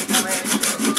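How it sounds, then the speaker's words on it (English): A small hand saw cuts through a half-inch wooden dowel, giving loud, close, rhythmic rasping strokes, about three back-and-forth passes in quick succession with no voices. "I'm going to take a half inch dowel, my little saw"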